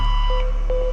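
An answering machine beep: two short, steady electronic tones sounding in sequence over a continuous musical backing.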